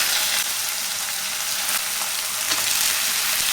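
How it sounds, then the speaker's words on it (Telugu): Pre-boiled mutton fries with onion, tomato and green chilli in a pan, giving a dense, even sizzling hiss close by with no voices. "ఇప్పుడు ముందుగా ఉడికించుకున్న మటన్ అయితే వేసేద్దాం"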